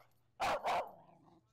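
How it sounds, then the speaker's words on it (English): A puppy in a foster home gives two quick, sharp barks close by, back to back, followed by quiet room tone. "He's actually a very calm dog for a puppy."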